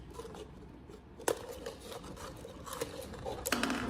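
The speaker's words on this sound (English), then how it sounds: "use scissors to cut off the top of the bottle" Sharp snipping cuts from scissors working through a plastic bottle, a few distinct crisp clips amid soft scraping and rustling, close up.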